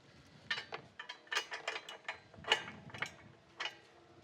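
A hand ratchet tightens the bolts on an ATV bumper, sounding as quiet, close clicking bursts in short uneven strokes with brief pauses between them.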